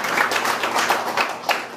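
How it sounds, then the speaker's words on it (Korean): An audience at the Kim Dae-jung Forum breaks into brief, dense applause, with many hands clapping at close range in a short burst. "여러분 우선 큰 박수를 부탁드리고요"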